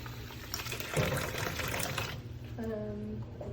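Water gurgles and bubbles softly as a small terracotta disk sinks into a cup, with a brief rising fizz near the end; voices murmur faintly in the background.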